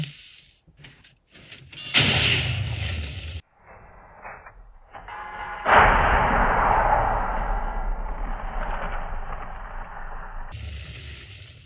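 TNT-fired anvil cannon in Minecraft: a burst of blocky game noise, then a loud explosive blast around the middle that rumbles and hisses on for several seconds before a final clatter, with no talking.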